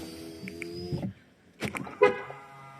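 The electric windows of a 2015 Ford Focus whir in a steady motorized hum, then stop; a couple of short horn toots follow close by.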